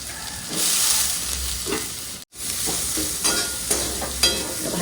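Chicken frying in a pan, with a loud sizzle and stirring scrapes coming in bursts, broken by a brief silent gap.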